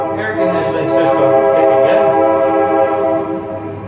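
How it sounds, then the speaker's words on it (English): A summit train at Stone Mountain rolls past, a loud, sustained rumble with a long horn-like tonal blast that holds steady for several seconds before easing slightly at the end. "the train doesn't like me talking, so every time I say something, the train tries to load her with it"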